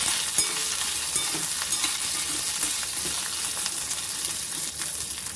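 Green chilli and curry leaves frying in hot oil in a pan with peanuts for jowar khichdi, a steady close crackling sizzle that continues evenly throughout without any talk.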